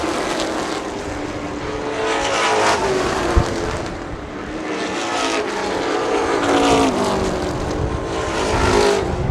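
Pro stock race cars roar around an oval track through turns three and four, engines swelling and fading in repeated passes, loud and continuous, with no commentary over them.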